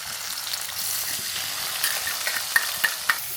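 Chopped onion and three green chillies sizzle and fry steadily in hot coconut oil in a pan for a Kerala pothichoru side dish, a close, continuous hiss with a few sharper crackles and stirring scrapes near the end.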